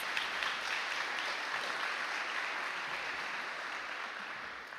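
An audience applauds an honoree at a Cotulla High School National Honor Society induction and hooding ceremony, a broad wash of many hands clapping that holds steady and then slowly fades.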